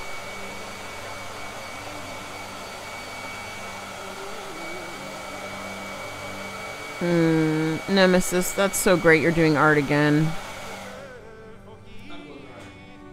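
A blow dryer runs continuously at a steady, moderate level beneath a person talking, with a brief louder tonal burst midway.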